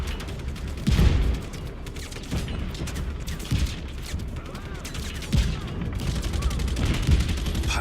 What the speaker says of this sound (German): Wer schießt denn da immer noch auf mich?